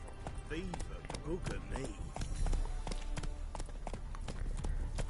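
Roach, a horse in The Witcher 3: Hearts of Stone, gallops with quick rhythmic hoofbeats close by, someone speaking briefly over the start of the run.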